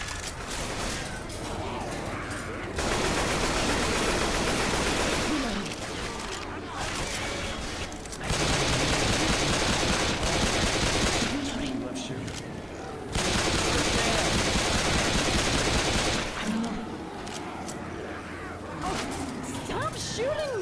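Heavy video game gunfire rolls in long, loud automatic stretches broken by quieter gaps, with voices faintly mixed underneath.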